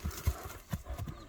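Heavy horses' hooves clop in an irregular rhythm, four or five close, soft thuds over a quiet outdoor background.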